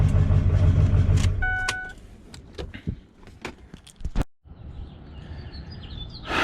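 A Ford F450 truck engine with misfires in cylinders 1, 2, 3, 4, 6 and 8 idles loudly up close, then cuts off around the middle, leaving quiet outdoor ambience with birds chirping and faint clinks.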